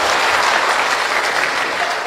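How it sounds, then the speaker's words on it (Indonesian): A church congregation in Palangka Raya gives loud, continuous applause during a Christmas sermon, a thick wash of many hands clapping at once without pause. "Tepuk tangan dulu kasih bapak-bapak."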